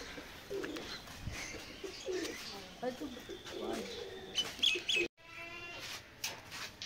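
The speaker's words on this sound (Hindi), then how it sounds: "मेरे पास और भी कबूतर है, ये देखे कितने सारे कबूतर हैं।" Soft pigeon coos sound in short repeated bursts over a background of speech and light rustling, with a brief sharper noise near the end.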